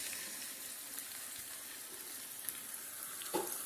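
A spice paste is frying in a pan, giving a faint, even sizzle with a few soft taps and a small clink near the end, and no talk over it.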